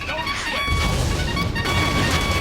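A loud crashing mortar grenade blast in the military strategy game Battalion Wars on GameCube, a sustained, rumbling explosive burst close by, with no voices.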